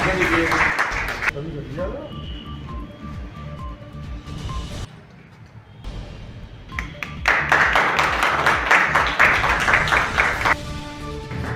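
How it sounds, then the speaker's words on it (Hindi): Audience clapping to welcome guests during a lamp lighting ceremony at a press club hall for an International Women's Day gathering, bursts of applause under someone speaking into a microphone, loudest in the second half. "दीप प्रज्वलित हो रहा है, तालियों से आप लोग स्वागत करते रहिए।"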